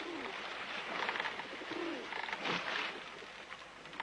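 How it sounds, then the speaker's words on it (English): A dove coos softly in a few low, rolling phrases aboard the Ra II reed boat crossing the Atlantic, over a faint steady background hiss. "Refusing to return to land like the other birds, the dove chose to stay with us"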